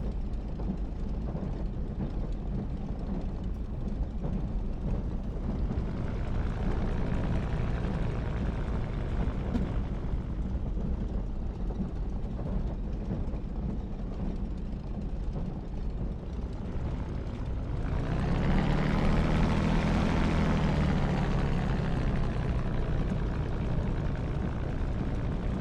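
P-51 Mustang in DCS World taxiing along the side of a runway, its propeller engine a steady loud drone throughout, swelling louder with a throttle burst near the end.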